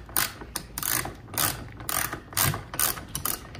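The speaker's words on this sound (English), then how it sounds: "It's a little weird with the socket wrench because you're applying the pressure from like the side, versus straight from the top." A socket wrench ratcheting a square nut loose, producing bursts of fast metallic clicking in short back-and-forth strokes, close and loud, with no talking.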